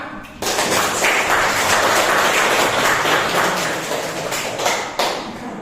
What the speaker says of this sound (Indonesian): Terus tepuk tangan untuk kita semua.